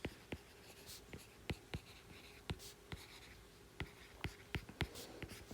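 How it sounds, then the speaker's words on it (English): Pen or pencil writing by hand on paper while working a math graph problem, a close, quiet series of irregular scratchy strokes and taps, with no talking. "And I'll write it out."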